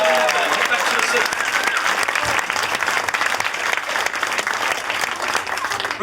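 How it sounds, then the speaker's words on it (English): A crowd claps loudly and continuously, dense applause filling the whole stretch with a few voices mixed in. "Give him a huge round of applause."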